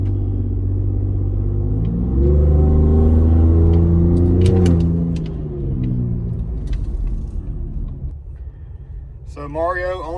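A 2020 Ford Raptor fitted with a Borla S-Type exhaust and mid-pipe rumbles deeply, swelling in pitch as it revs and then settling back to a lower idle, with a voice breaking in near the end.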